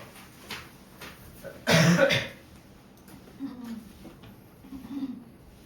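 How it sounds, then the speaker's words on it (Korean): One short, husky cough-like throat clearing stands out clearly against quiet room noise, with soft murmured voices afterward. "자꾸 헛기침 내지 말고"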